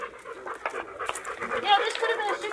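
A dog at a medical and behavioral care program pants in quick, uneven bursts close by, with people talking over it.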